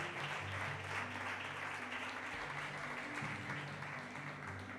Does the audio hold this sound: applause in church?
yes